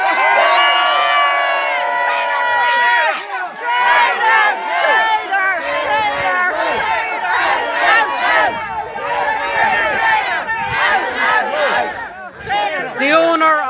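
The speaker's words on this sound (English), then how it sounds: "The owner of the pub just came out, so people are just cheering at him." A protest crowd gathered outside a pub cheers and yells at the pub owner, many loud overlapping shouts and whoops rising and falling close by.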